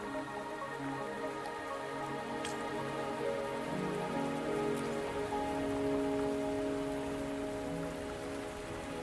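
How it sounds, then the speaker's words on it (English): Rain falls steadily in the video game Wuthering Waves, a constant patter on surfaces with scattered drips, layered over soft sustained ambient tones and no voices. "Are you trapped here by the rain?"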